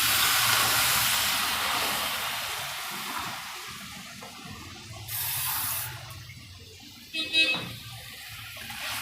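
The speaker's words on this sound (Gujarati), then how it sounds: "હવે આપણે એમાં પાણી નાખીએ" Water is poured into a hot pan of spiced masala for a Gujarati paneer and corn curry, giving a loud rushing hiss for several seconds that fades to quieter bubbling with a few brief splashes near the end.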